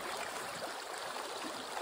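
Water rushing through a gold-prospecting sluice box, a steady broadband hiss and splash, fairly close and continuous with no talk.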